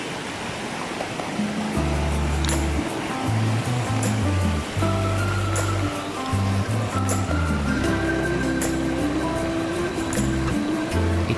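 A river flows loudly and continuously, a broad close roar, with some tonal engine-like hum layered over it.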